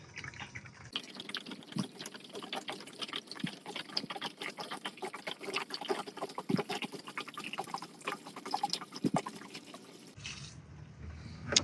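Windshield washer fluid is poured into the tank of a Steel Green spreader/sprayer being winterized, giving a steady close trickle and splash with scattered drips that stops sharply near the end.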